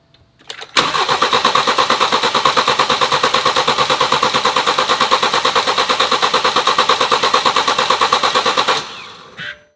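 An old BMW that has not run in years cranks steadily for about eight seconds, a loud, rapid rhythmic churning of the starter turning the engine over without it catching, then cutting off abruptly.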